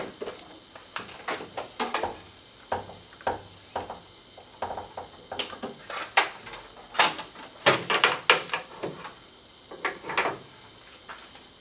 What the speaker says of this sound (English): So to do that, we'll open the hood.